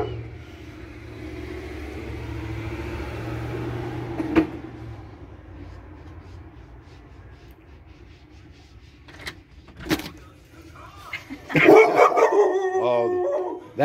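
A dog barks and howls from outside a car on a drive. A few sharp, isolated barks come first, then a louder, close burst of excited howling and yelping near the end over a low engine hum.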